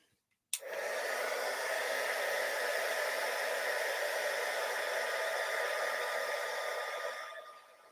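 Heat gun heating embossing powder, a loud, steady, breathy blast that switches on abruptly and runs unbroken for several seconds before fading off.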